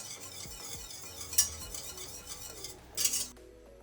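A utensil stirs melted chocolate into warm cream in a pot, with metallic clinks and scrapes against the pan at an irregular pace, close and fairly quiet, with a couple of brighter clanks.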